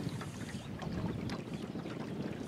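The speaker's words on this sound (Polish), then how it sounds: "Ale wieje. Wieje." Wind rushes and buffets steadily across the microphone on a river while fishing, a low rumbling roar with faint water movement beneath, no voices.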